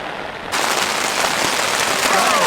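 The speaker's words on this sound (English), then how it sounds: "It started pouring rain right away" Heavy rain pours onto an old, leaky camping tent, bursting in suddenly after a quiet moment and then holding as a dense, loud, steady hiss of drumming drops.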